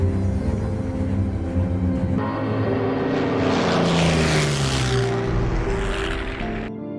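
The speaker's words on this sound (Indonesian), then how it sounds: "tiba-tiba ada 2 pesawat Amerika sedang patroli." A loud, steady drone of two American propeller patrol planes fills the air, swelling as they pass overhead before cutting off abruptly.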